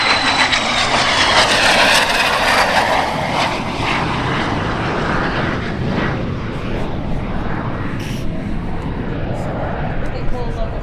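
Jet warbird engines roar loud and steady at EAA AirVenture Oshkosh 2025, a sustained outdoor blast that eases slightly and shifts in pitch as the aircraft moves. A voice speaks over it.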